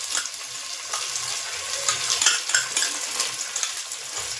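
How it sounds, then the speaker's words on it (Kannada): Ginger garlic paste fries in hot oil for a biryani tempering, a steady crackling sizzle with occasional stirring scrapes, close and continuous without talk. "ಅದನ್ನು ಎಣ್ಣೆಗೆ ಹಾಕ್ಕೊಂಡು ಚೆನ್ನಾಗಿ ಫ್ರೈ ಮಾಡ್ಕೊತೀನಿ"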